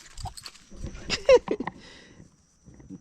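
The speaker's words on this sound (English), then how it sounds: "That's my dog." Dog barking in a few short yaps close by, mixed with brief human vocal sounds and scuffling noises.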